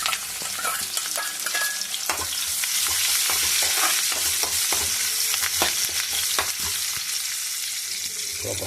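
Tempering spices sizzle and crackle in hot oil in a pan for a drumstick-leaf tomato dal, a steady close frying hiss broken by stirring scrapes, with no talking.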